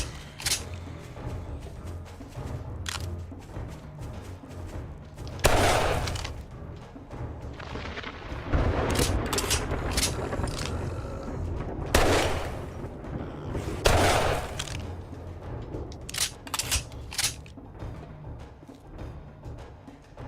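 Pistol gunfire in the survival game 7 Days to Die during a Blood Moon horde night: a series of sharp, loud shots spaced irregularly across the stretch over a constant low rumble of game ambience, with no talking.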